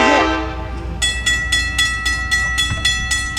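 A scenic railroad engine pulling in at the Conway, New Hampshire station sounds a loud, close horn in a series of regular repeated blasts over rumbling rail noise.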